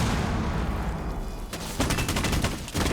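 Bursts of rapid gunfire from a competitive shooter video game match, a dense stutter of shots in the second half after a steadier noisy stretch, with no talking.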